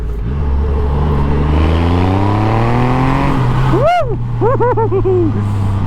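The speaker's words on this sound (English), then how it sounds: "you've got this induction roar, this supercharged" A supercharged Triumph Rocket 3 TTS 2.5-litre triple motorcycle engine roars and revs hard with induction roar, pitch climbing steadily, then sharp rising-and-falling whine bursts from rapid throttle blips near the end.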